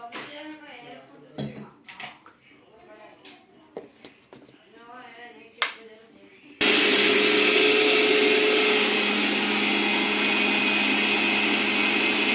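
A mixer grinder whirs loudly and steadily while blending bottle gourd dosa batter, a constant close motor roar that starts abruptly after someone talks and continues without pause to the end.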